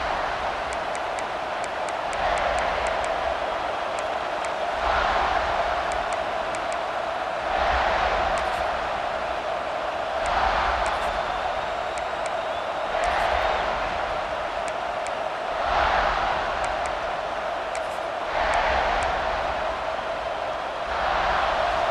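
Stadium crowd roaring in a college football video game, a loud continuous sustained din that swells in repeated waves every few seconds.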